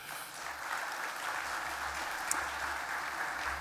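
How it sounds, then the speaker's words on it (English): Steady applause from an audience at a charity gala ball, a sustained even wash of clapping of moderate loudness lasting a few seconds with no talk over it. "A round of applause."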